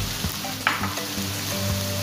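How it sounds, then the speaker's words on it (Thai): Pork pieces stir-fried with red curry paste in a pan for a stir-fried long bean dish, making a steady close sizzle broken by scraping and clanking stirring strokes. "จากนั้นนะครับก็ทำการผัดนะครับหมูให้เข้ากับพริกแกงนะครับแล้วก็ให้หมูสุกเลยนะครับ"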